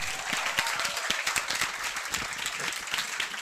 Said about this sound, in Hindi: कमल सर को एक बार जोरदार तालियां हो जाए